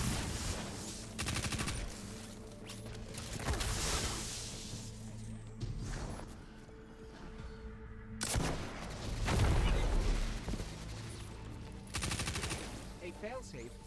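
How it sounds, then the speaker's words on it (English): Fusion rifle gunfire in the video game Destiny 2, several loud charged volleys of bolts in bursts with whooshing impacts over game sounds and music. "So fusion rifles shoot out a bunch of different bolts."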